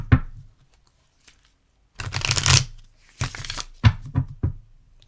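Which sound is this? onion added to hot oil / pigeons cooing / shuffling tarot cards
shuffling tarot cards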